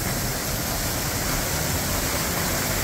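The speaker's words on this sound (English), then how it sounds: "I can get even closer to the waterfall. Get right up to the bottom of it." A waterfall at Camp Creek Falls roars from very close range, a dense, loud, unbroken rush of falling water with no voices.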